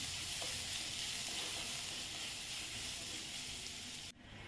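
Onions sizzle steadily in hot oil in a pan as they are sautéed for a brinjal fry. The frying hiss stays soft and constant and cuts off abruptly at the end, with no talking.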